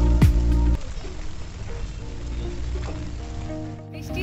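Heavy rain pours steadily, a dense continuous hiss close by, with a loud low rumble in the first moment and a faint tonal hum running underneath.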